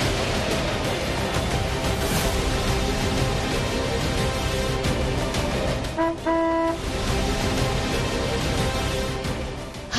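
A car horn sounds briefly amid steady, loud traffic noise, a short tonal honk standing out over the road rumble.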